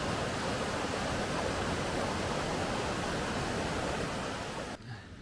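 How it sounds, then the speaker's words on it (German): A cold mountain stream rushes steadily, with a dense, even roar of water close by that stays level throughout and drops off just before the end. "Aber zuerst muss ich durch den Bach."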